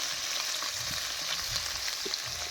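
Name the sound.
paneer frying in pan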